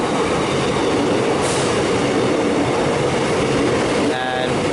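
A train runs express through Glenferrie station in Melbourne without stopping, giving a loud, steady roar and rumble of wheels on track that fills the whole stretch, with a brief high squeal near the end.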